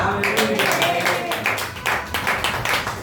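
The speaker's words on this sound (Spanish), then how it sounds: "Denle un aplauso al Rey." Congregation clapping during a church service in Jaruco, Cuba, a dense run of close hand claps with voices mixed in underneath.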